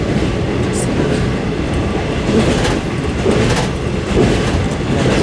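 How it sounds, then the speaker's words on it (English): A train running from Hat Yai to the Malaysian border makes a loud, continuous rumble and rattle of wheels on rails throughout, with no break. "The train from Hat Yai to the Malaysian border."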